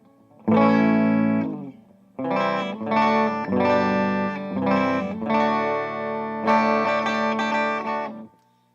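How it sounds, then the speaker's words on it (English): An electric guitar plays chords through a modified Blackface Deluxe Reverb amp with reverb, loud and close, several strummed chords ringing out with a reverb tail and brief gaps between them. "It has reverb on it as well."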